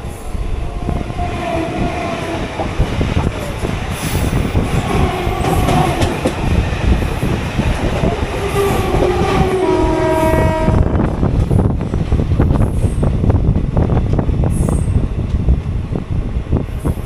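The Kanchanjungha Express runs out of Sealdah with loud, steady wheel rumble and clatter on the rails, its horn sounding in several long tonal blasts partway through.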